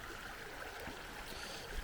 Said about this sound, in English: There's this calming river.